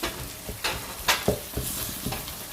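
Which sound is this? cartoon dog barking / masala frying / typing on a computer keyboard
masala frying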